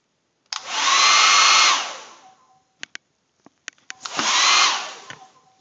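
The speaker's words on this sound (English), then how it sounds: "Just a hair dryer." A hair dryer runs in two strong blasts of steady airy whirring, each about a second and a half long, with a few short clicks and knocks between them.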